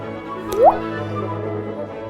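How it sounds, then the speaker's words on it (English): A single water drop lands with a crisp, rising plop, close and clear over a faint background hum in a short animation sound effect. "here is my not quite blindfolded water drop animation"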